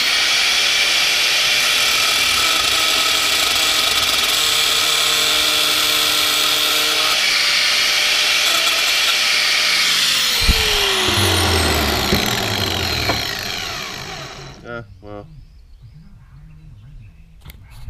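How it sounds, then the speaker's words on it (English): An angle grinder cutting apart an electric motor, a loud sustained high whine that holds steady, then dips and winds down as the disc spins to a stop, leaving quiet rattles at the end. "So when you have a grinder, let the blade do the work."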